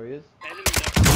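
A sniper rifle shot in Warzone DMZ cracks out loud and close right after a brief voice, followed by a rolling, rumbling tail.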